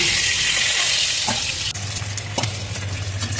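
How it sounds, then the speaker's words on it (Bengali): A boiled egg frying in oil in a pan, a loud continuous sizzle with spoon scrapes and stirring taps over it, close up and with no talk. "ডিমটাকে সেদ্ধ করে ভেজে নিলাম।"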